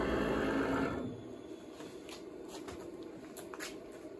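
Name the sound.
CNC machine moving 100 millimeters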